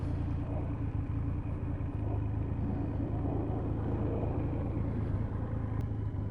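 Triumph Rocket 3 R motorcycle engine rumbling at a steady low idle, deep and continuous with dense low-end throb, close by and with no talking.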